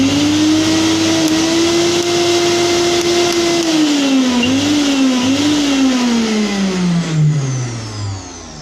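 A repaired electric mixer grinder with a replaced armature runs alone, its motor whining loud and steady, wavering slightly midway before spinning down at the end.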